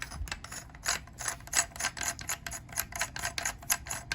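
Part being screwed back onto a rifle barrel during a Midwest Industries side folder install: soft, rapid clicking and ratcheting ticks from close by, uneven rhythm, quiet and alone with no talk.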